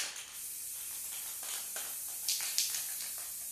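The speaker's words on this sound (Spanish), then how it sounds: "le paso el aerosol" Aerosol spray adhesive misted onto a quilt sandwich, giving a steady close hiss with two brief louder bursts near the end and no talk over it.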